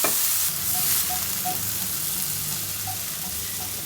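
Beetroot and cabbage stir-frying in a pan make a steady, close hiss of sizzling oil throughout, with a few light scrape and clink sounds from stirring, and no voices.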